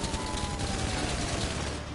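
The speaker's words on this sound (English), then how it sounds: "Oh, they've got machine guns on there." Dense, continuous automatic gunfire from a machine gun in the video game GTA V, a loud unbroken rattle that fills the whole stretch.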